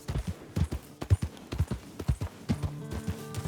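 A herd of horses galloping in the video game Red Dead Redemption 2, rapid repeated hoofbeats thudding close and loud, with a faint whinny near the end.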